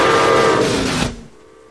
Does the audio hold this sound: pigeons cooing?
no